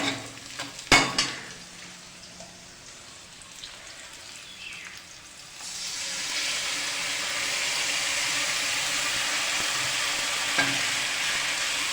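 Spices hit hot oil with a loud, steady sizzling hiss that settles in after a few quiet clinks and stirring noises at the start.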